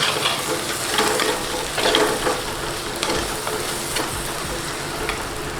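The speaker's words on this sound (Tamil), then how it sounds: "இதே இந்த மசாலா நல்லா எண்ணெயில் அது வந்து ஃப்ரை ஆகிறதுக்காக கொஞ்சம் அப்படி நல்லா கிளறி விட்டுப்போம்" Spicy masala for Nellai-style chicken thokku frying in oil as it is stirred in the pan, a steady close sizzle with scraping stir strokes and no talking.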